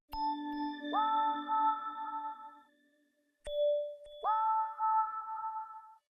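Synth pad and bell one-shots in a vintage-style detuned beat: two bright bell-like strikes ring out with sustained, sliding tonal pads, separated by a brief near-silent gap.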